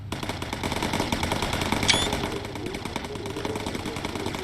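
Rapid, continuous machine-gun fire from bomber gunners shooting at fighters in Bomber Crew, a dense steady rattle running throughout with a brief sharp whine partway through.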